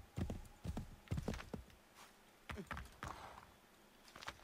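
Horse hooves clip-clop in the Assassin's Creed 3 video game, sharp uneven hoofbeats landing in irregular bursts close by, with a horse's brief whinny mixed in.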